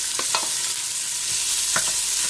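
Red onions dropped into hot oil over golden-fried garlic give a loud, continuous hiss of frying, with a few clicks of stirring close by.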